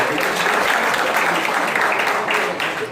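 An audience at a Dahi Handi practice launch event breaks into loud, sustained applause, a dense, even wash of clapping from many hands that tapers slightly at the end.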